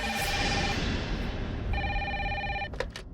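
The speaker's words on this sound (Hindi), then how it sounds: "कैसा फोन है, फिर भी बज रही है।" An official landline telephone rings in a women's police station, two loud electronic ring bursts with a short gap, then brief clicks as the ringing stops.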